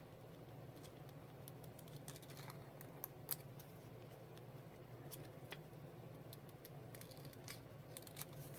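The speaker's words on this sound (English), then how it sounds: "I'm just going to cut this holly leaf off" Scissors snip through fabric trimming around a holly leaf shape, a run of quiet, close cuts with small clicks over a steady low room hum.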